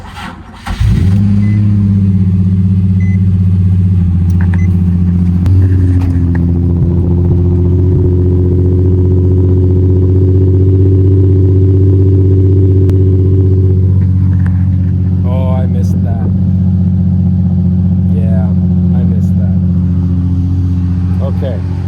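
A Nissan 350z engine cranks and catches near the start, then settles into a loud, steady low idle that runs unbroken to the end, with faint voices and small clicks over the top.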